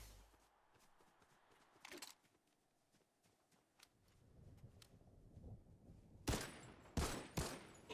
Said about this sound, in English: Everybody's shooting him at the same time.